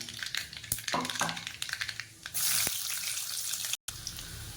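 Mustard seeds crackle and spit in hot oil with rapid, irregular pops, the sizzle swelling louder partway through, close and continuous.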